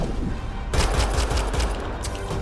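Rapid automatic weapon fire in the sci-fi shooter Mass Effect: Andromeda, erupting loudly after a short quieter stretch and continuing as a dense, steady volley with a few sharper individual cracks near the end.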